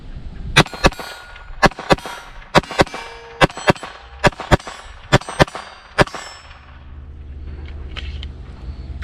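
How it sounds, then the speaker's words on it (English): Sig Sauer P322 .22LR pistol fired in quick double taps at steel targets, sharp close shots each followed by a bright metallic ring, about a dozen in paired rhythm before fading into outdoor ambience. "Let's try some double taps left to right here."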